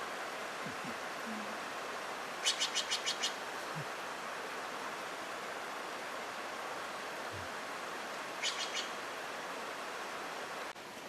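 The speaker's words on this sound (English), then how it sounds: "And what is that bird? That's a Steller's jay." Two quick bursts of harsh, repeated calls from a Steller's jay, a few notes each, over steady rushing water or wind noise; otherwise no clear sounds.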